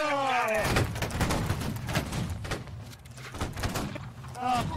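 Musket volley fire in the Holdfast: Nations at War video game, a loud crackling massed discharge of line infantry muskets with rolling reports, following an officer's shouted commands.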